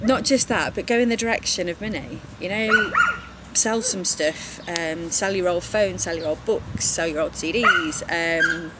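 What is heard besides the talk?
dog barking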